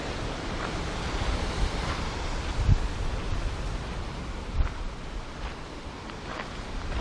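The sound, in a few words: waves on a small empty beach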